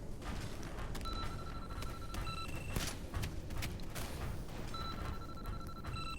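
Video game explosions and gunfire from a bug-shooting game, a dense rumbling barrage with repeated sharp bursts and mechanical beeping tones, steady and loud throughout.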